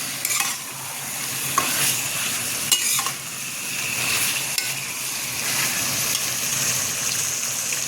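Chicken being stirred with freshly ground ginger paste in a hot pan, a continuous loud sizzle with occasional scraping clicks from the spoon.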